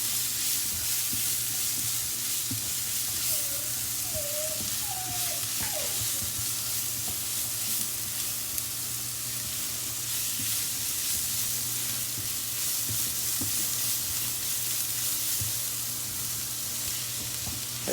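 Rice is sautéed in a pan for a brie and leek risotto, with a constant close sizzle and faint scraping of stirring running steadily, a few brief squeaks early on, no talk.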